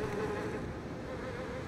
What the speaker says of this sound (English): Ew, the buzzing is disgusting.